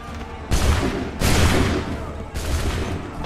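Musket volleys in Assassin's Creed III crash out as three loud, massed blasts at uneven intervals, each ringing out with a rough, decaying rumble over low battlefield ambience.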